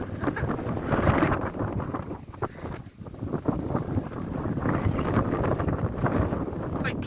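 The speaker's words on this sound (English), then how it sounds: "the wind was a steady 40 kilometres, gusting up to 60, 65." Strong wind gusts buffet a tent pitched on a hilltop, roaring and flapping continuously with loud surges and dips throughout, heavy buffeting against the microphone, no speech.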